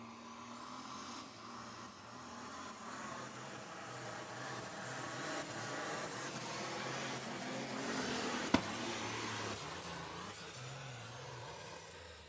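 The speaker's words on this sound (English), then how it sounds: "that tractor was getting all kinds of crazy, was spitting and sputtering, jumping all around" Diesel superstock pulling tractor at an outlaw tractor pull in Nebraska, its engine roaring loud and steady with a rough, sputtering edge and a sharp crack near the end, no talk over it.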